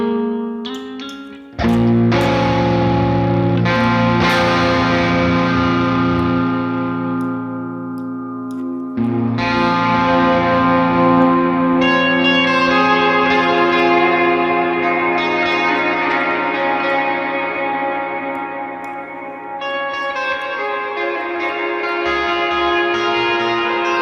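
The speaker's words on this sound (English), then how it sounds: "Let's go play around with the studio reverb." Clean electric guitar chords ring out through a John Mayer X plugin's studio reverb, each strum blooming into long, washy tails that overlap as new chords are played across the passage, with no talking.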